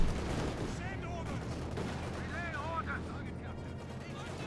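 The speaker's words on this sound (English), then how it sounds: "Great shot there with the field gun on the Lux" A field gun fires in Company of Heroes 2 against a Luchs light vehicle amid a busy battlefield, with booming shots and scattered gunfire, while commentary runs faintly underneath.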